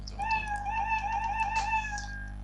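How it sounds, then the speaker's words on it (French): A cartoon cat meow sound effect plays from a Scratch sprite, one drawn-out, clear meow lasting about two seconds over a low steady hum, with no talking. "j'ai pressé bien évidemment sur la flèche du haut et du coup j'entends le son miaou"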